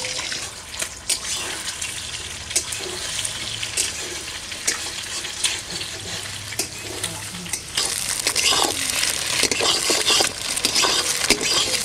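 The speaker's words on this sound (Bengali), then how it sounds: "সেদ্ধ করার পরে প্রথমে আমি ডিমটা ভেজে নেব। কড়াইয়ে দিয়ে দেবো সর্ষের তেল।" Three eggs fry in mustard oil in a wok, giving a steady crackling sizzle with sharp spatters and scraping stirs that grows louder toward the end.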